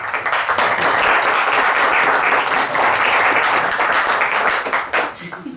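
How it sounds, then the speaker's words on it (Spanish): Loud, dense applause from a conference audience welcoming speakers, sustained for several seconds before tapering off near the end. "de costumbre recibimos a nuestros conferencistas con un aplauso"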